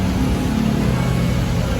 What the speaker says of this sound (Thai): สั่งสตาร์ทด้วยรีโมท กดที่ปุ่มลูก 2x ค้างไว้นะครับ